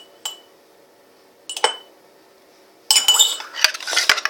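Slime mixture stirred in a bowl with a utensil, scraping and clinking against the sides: two brief knocks, then a denser stretch of busy stirring and clicks, close and fairly loud.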